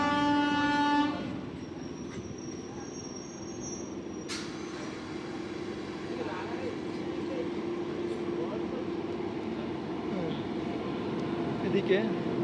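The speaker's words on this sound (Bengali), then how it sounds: "এই ট্রেনটি সপ্তাহে 7 দিনই চলাচল করে" A colourful South Eastern Railway EMU local train moves through a station, sounding a short horn blast at the start, then a steady rolling rumble with faint wheel squeals and occasional clanks.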